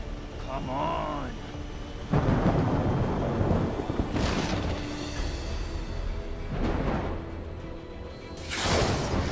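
Lightning strikes deliberately triggered by a pulled switch in an animated Justice League superhero scene, with about four sharp crackling bursts of thunder spaced a couple of seconds apart over a steady rumbling background.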